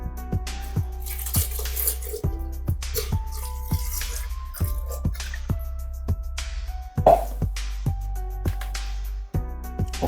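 Milk poured over oats in a bowl, heard as short wet drips and splashes in an irregular rhythm over a steady low hum, close and moderately loud, with no talking.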